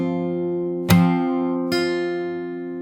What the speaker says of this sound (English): where you slap and ring the chord